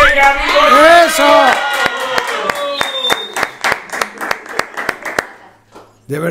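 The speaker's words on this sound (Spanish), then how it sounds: "De verdad que merece otro aplauso." A studio audience at a comedy show claps and cheers loudly, with whoops over the applause at first, then a run of separate loud claps that slowly fades.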